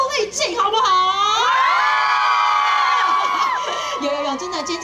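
A large concert crowd at the 2017 Yong'an fishing harbor carnival screams and cheers loudly and close by. Shrill, sustained shrieks swell together for several seconds, then ease off into scattered yells.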